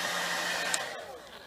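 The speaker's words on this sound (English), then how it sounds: "You can go ahead and use the hairdryer to dry this really quickly." Hair dryer blowing steadily to dry a reverse glass painting, a continuous loud whirring that fades slightly toward the end.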